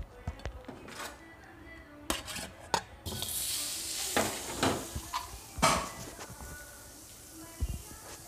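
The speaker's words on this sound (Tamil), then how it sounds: "பட்டரை நல்லா மெல்ட் பண்ணிக்கலாம்" Butter melting in a pan for a rice dish, with soft sizzling and frying hiss broken by scraping stirs and clinks of a utensil against the pan, close up, with faint talk at points.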